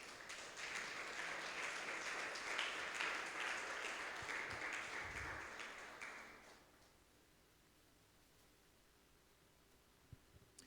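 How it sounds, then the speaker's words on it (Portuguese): A church congregation claps in steady, sustained applause that fades out after about six seconds, leaving near silence with a couple of faint taps. "Você pode dar uma salva de palmas para Jesus?"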